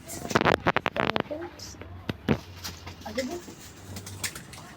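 Pigeons in a home pigeon loft give low, soft cooing murmurs near the end, mixed with a burst of sharp flapping and clatter at the start and a voice talking over parts.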